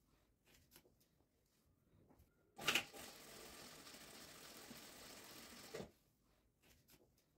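A sewing machine stitching elastic-waist skirt ruffles, heard close and fairly loud: one steady mechanical whir of about three seconds that starts and stops with a clunk, with quiet handling noises before and after.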